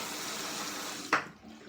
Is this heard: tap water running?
yes